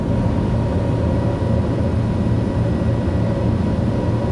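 A Pilatus PC-12 turboprop in a flight simulator climbs out after takeoff while heavily loaded with cargo, its engine producing a loud, steady, unbroken drone with a deep rumble underneath.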